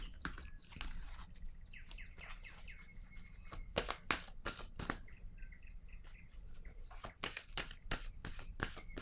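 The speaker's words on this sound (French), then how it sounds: "Je vais déposer une autre carte ici." A tarot card laid down on a table during a card reading, soft papery taps and brief rustles repeating irregularly, quiet and close.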